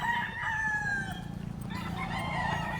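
Mayahin gamefowl roosters crow at a game farm, one drawn-out cock-a-doodle-doo near the start followed by another overlapping crow, with soft clucking and farm background throughout.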